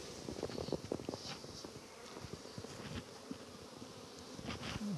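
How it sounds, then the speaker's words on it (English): Dense, agitated buzzing of honeybees being shaken down into a small micro queen cell builder box, close and continuous, with soft knocks and thumps of the frames among the swarm noise. "shake those bees down in there"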